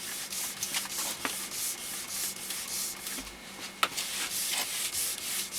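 A ski tuning tool is pressed hard and rubbed back and forth over a waxed ski base, giving a close, steady rhythmic scraping with a few sharper knocks.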